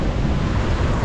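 Sea waves surge over the damaged seafront sidewalk at Boa Viagem, Recife, a loud, continuous broadband rush of water and wind noise with no pauses.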